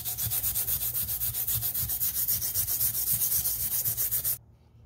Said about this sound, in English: Got a little green scrubbing pad here.